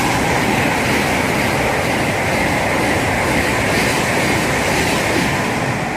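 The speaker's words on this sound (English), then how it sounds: "That's 700-114 on 2 Whiskey 51, the 1638 Thameslink service from Bedford to Three Bridges" Thameslink Class 700 unit 700-114 rushes through Elstree and Borehamwood station, a loud, steady roar of wheels on rails with faint clatter, sustained throughout without voices.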